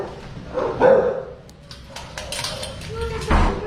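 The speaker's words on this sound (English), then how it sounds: "There are dogs. dogs for adoption here." Dogs waiting for adoption at an SPCA shelter bark in a few short bursts at moderate distance, partly under people talking nearby.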